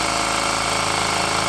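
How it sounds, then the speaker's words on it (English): A hammer drill vibrates against a concrete coaster mold, giving a loud, continuous rapid rattling buzz that stays steady throughout, with no voices. "I'm going to take our hammer drill and just vibrate this guy"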